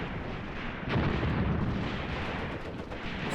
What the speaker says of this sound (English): Grenade. Oh, baby. Nice throw.